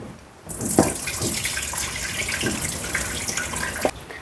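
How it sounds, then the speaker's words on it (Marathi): Water pours off boiled taro as it is drained, a steady close splashing stream lasting about three and a half seconds before cutting off. "मी आता याचं पाणी काढून टाकते."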